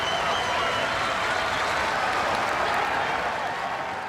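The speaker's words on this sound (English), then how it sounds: "The crowd is excited" An excited tennis crowd applauds at a match, a dense, steady wash of clapping that fills the whole stretch at a fairly loud, even level, with a voice faintly present beneath it.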